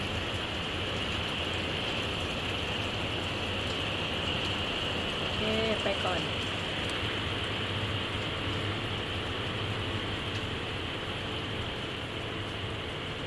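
Steady hiss of rain falling throughout, constant and fairly loud, with brief speech partway through.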